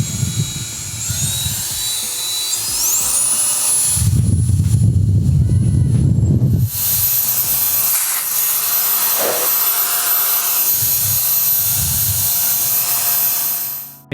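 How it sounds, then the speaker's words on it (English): A KiCA Jet Fan Max handheld jet blower whines loudly and steadily, its high-pitched motor tone shifting upward as the speed is raised, with a deeper rushing roar surging in the middle before it settles back to a sustained whine. "To power it on, just hold down the power button and then you can adjust the speed with the slider."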